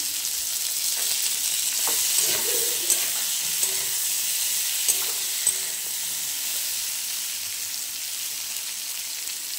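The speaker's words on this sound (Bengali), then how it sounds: "মাছের ঝোলের পটলটা ভেজে নিচ্ছে" Pointed gourd (potol) frying in a pan of oil for a fish curry, making a continuous, even hiss and sizzle with a few faint clinks of stirring.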